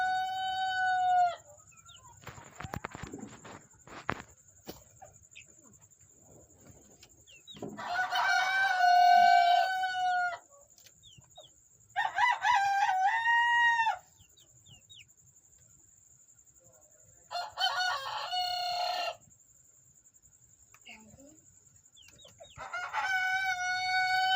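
Paper White Heera Aseel chickens on a farm crowing and clucking in several separate bursts, loud and near, with quiet gaps between calls and a steady high hiss in the background.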